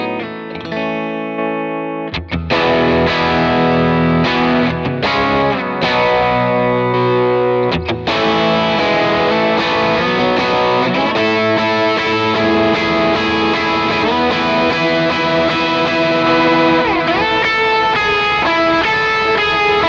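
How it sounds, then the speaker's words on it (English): Electric guitar played through Line 6 and Fractal presets, stepping from a clean tone into drive, heavier drive and a big lead tone, with a chorus-like shimmer and reverb as picked riffs and sustained notes ring out loud and continuous. "we're gonna go clean, drive, bigger drive to like a big lead tone and show you how that sounds."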